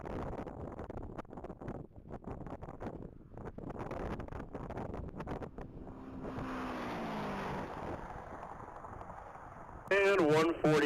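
A 2017 Camaro SS races on a mile top-speed track at the Texas Mile. Wind buffeting and talking voices carry a fluctuating engine drone, with a louder, higher engine whine surging briefly near the end.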